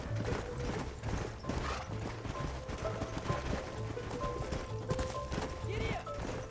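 Horse hooves clip-clop steadily at a ride in the Red Dead Redemption video game, a fast repeating gait under game music and ambient sound, fairly loud throughout.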